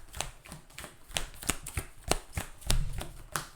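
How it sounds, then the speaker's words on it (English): A deck of game cards being shuffled by hand, a quick run of sharp riffling bursts and soft slaps repeating about every third of a second, close and fairly quiet with no talking. "And we're going to shuffle that up properly."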